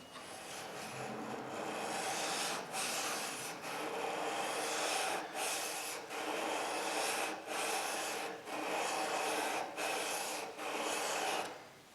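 A freshly sharpened woodworking chisel edge is rubbed back and forth on a stone to remove the burr, giving a steady close-up rasping scrape in about ten long strokes, each separated by a brief pause.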